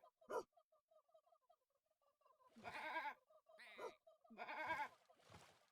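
Several loud, close sheep bleats in a video game, wavering cries in irregular bursts, with a faint repeating tonal game sound running beneath.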